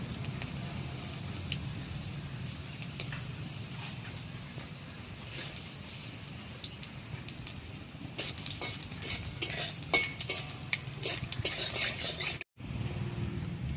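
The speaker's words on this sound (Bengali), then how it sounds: "কড়াই গরম হয়েছে আমি এবার সর্ষের তেলটা তো দিয়ে দিয়েছি এবার শুকনো লঙ্কা আর কালো জিরে ফোড়ন দিয়ে দেবো" Dry red chillies and nigella seeds temper in hot mustard oil in a kadai, giving a constant close sizzle under scraping spoon clatter that grows busier toward the end and breaks off briefly.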